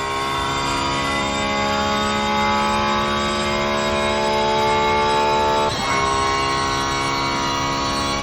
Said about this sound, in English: the engine sound is perfect